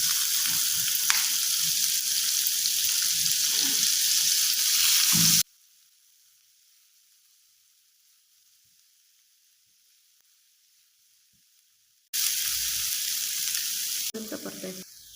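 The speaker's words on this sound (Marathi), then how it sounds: "1 टेबलस्पून होईल एवढं बटर टाकूया. यातच फाईनली चॉप करून घेतलेलं ओनियन ॲड करून घ्यायचं आहे." Finely chopped onion fries in butter in a pan for a spicy paneer bhurji: a bright, steady sizzle, then a stretch of near silence, then the sizzle returns.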